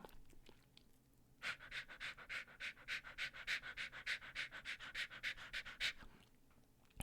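A human voice imitates a very small dog panting, a quick rhythmic run of about fifteen breathy huffs, close and fairly quiet, with short pauses before and after.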